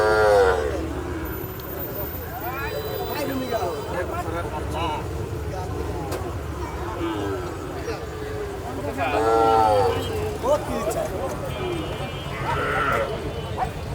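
Calves and cattle at the Amraid cow market in Bangladesh low and moo in several drawn-out calls amid a busy crowd, with people talking and bargaining nearby throughout.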